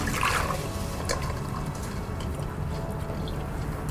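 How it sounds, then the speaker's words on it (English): Water drains from soaked rice in a kitchen sieve, a steady close trickle and patter lasting the whole moment with no talk. "Now, you want to drain the rice."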